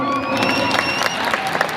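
A big stadium crowd at an AWPL direct-selling event in New Delhi roars with applause and cheering, a dense wash of clapping and shouts with whistle-like tones rising above it, steady for under two seconds.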